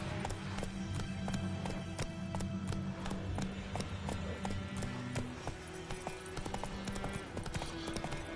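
Roach, the horse in The Witcher video game, gallops with a quick steady clip-clop of hooves under game music and ambient sound, fairly faint throughout.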